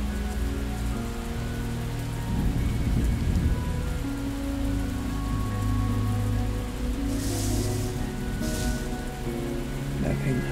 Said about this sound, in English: I wonder if we want to make it stop raining.